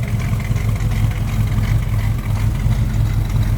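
A 1976 Pontiac Firebird Trans Am with a mild cam and new mufflers idles steadily, giving a deep, throaty, loping rumble that is loud and close with no talk over it.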